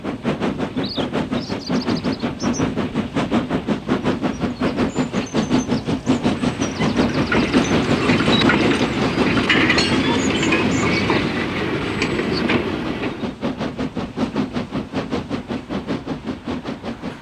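A train climbing a steep 1-in-53 gradient rumbles steadily past with rhythmic clickety-clack of wheels on rail joints, growing louder midway as it works its way along, then easing off.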